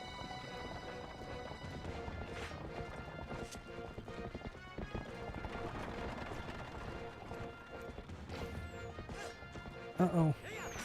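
A horse's hooves clip-clopping at a gallop in the Zelda: Twilight Princess video game, a steady rhythmic beat under game music, with a short whinny near the end.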